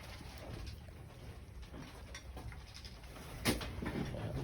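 Goats at breakfast feeding make soft, scattered sounds of munching and shuffling close by. One brief louder bleat-like burst stands out, and there is no talk.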